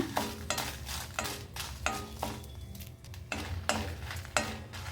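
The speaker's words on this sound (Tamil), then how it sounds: "இந்த எண்ணெயில் நான் காய்ந்த மிளகாய் ரோஸ்ட் பண்ணி எடுத்துக்க போகிறேங்க" Dried red chillies roast in hot oil in a pan while being stirred, giving a soft continuous sizzle broken by regular scraping strokes of a spoon, close and fairly quiet.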